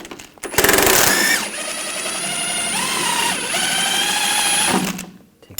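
A power wrench runs on a suspension bolt nut of an Audi A4 Quattro, one sustained whirring, rattling burst of about four seconds that starts with a sharp hammering jolt, close and loud with no talk.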